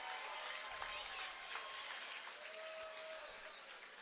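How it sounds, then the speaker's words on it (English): Applause and scattered cheering from a crowd after a combat sports main event, steady for several seconds, with a voice talking over it in a large arena. "How about a round of applause for these two great fighters and one hell of a main event"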